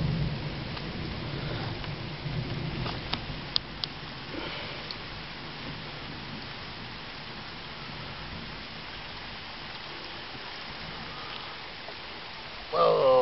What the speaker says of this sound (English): The rain's getting loud